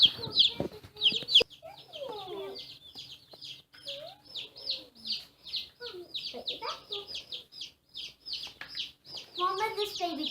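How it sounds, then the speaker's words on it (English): Newly hatched baby chicks peep constantly in high, rapid chirps, with a few softer clucks mixed in, close by, while children and an adult talk over them. "this baby chicken's gonna be mine"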